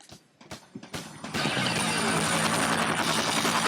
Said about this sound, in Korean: 이분도 헬기를 타고 등장하네요.